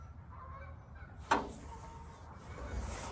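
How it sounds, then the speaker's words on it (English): Faint geese honk in the distance over a low outdoor rumble at Hart Park, with one sharper, nearer call standing out briefly. "I hope you can hear all those geese."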